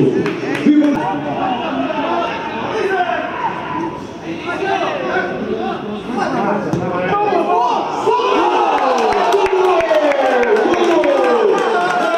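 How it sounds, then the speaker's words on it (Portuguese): Stadium crowd at a football match between Nacional and Oliveirense greeting the teams as they come out, a loud mass of cheering, shouting and scattered clapping that builds toward the end, with voices over it. "Vamos receber as equipas com um enorme aplauso."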